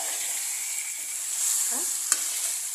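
Small fish curry frying in a pan with tamarind juice, a spoon stirring it gently with soft scraping strokes over a steady sizzle and one sharp clink, close and alone.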